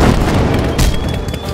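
A short, loud boom from a toy ice cream rocket launcher in an animated cartoon, with a burst of noise that fades quickly.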